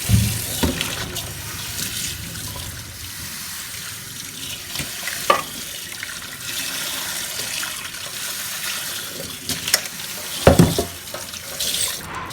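Running tap water splashes steadily over a Thai moo kratha grill pan as it is rinsed and washed, with a few louder clatters and splashes of the pan being handled near the sink; no one speaks.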